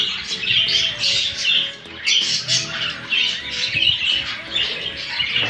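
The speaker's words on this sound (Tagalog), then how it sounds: "Ito yung mga inakay natin na parakit." Dense, continuous squawking from a group of young lovebird chicks, close and loud, harsh overlapping calls with no pauses.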